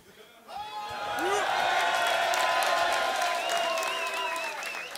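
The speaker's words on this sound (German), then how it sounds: "jetzt ist Applaus gefragt. Und zwar laut und stark" Audience applause and cheering at a rap battle, a broad roar of crowd noise with whoops rising after a brief start and holding steady and loud throughout.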